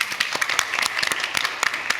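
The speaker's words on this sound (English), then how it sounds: "please give a round of applause" Audience applause at a Web Summit 2022 stage session, with distinct individual claps of uneven rhythm from a modest crowd, sharp and fairly close throughout.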